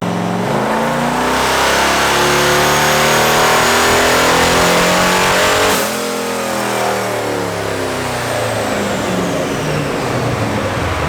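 A turbocharged car engine revs hard on a dyno, climbing steadily in pitch under load, then backs off and rumbles down as the throttle closes, loud and close.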